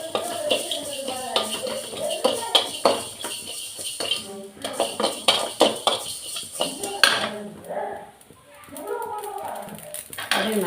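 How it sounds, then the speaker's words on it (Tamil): Mustard and fenugreek seeds roast in a hot kadai for a Tamil ginger pickle. They give a busy patter of popping and crackling, with metal utensil clinks and scraping, under someone speaking. "கடுகு, வெந்தயம் போட்டு நல்லா பொடி வச்சுக்கிறேன்."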